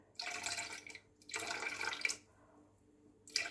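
In a home kitchen, water pours in two long splashing bursts and a third short one to top up milk for cooking salted cod fritters, heard close and fairly soft with no speech.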